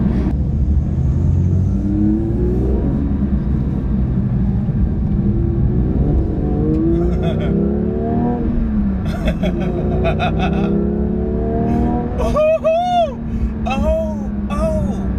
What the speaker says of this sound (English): I want you guys to hear this exhaust if you can